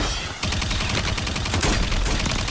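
Rapid automatic gunfire rattles nonstop in a Warzone match, loud and close, a dense fusillade of overlapping shots that starts abruptly after a brief lull and continues to the end.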